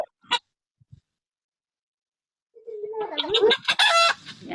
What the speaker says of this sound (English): Yep, it's a hen.